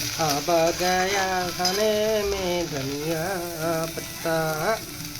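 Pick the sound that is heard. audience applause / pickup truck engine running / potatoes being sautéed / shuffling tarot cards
potatoes being sautéed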